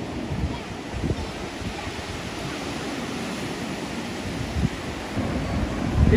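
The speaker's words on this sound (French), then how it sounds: "Regardez les vagues là-bas." Ocean waves break and roll on a Baja California beach, a broad rushing surf roar heard close and loud, mixed with gusty wind buffeting the microphone.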